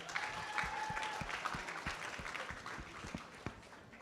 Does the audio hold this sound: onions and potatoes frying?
no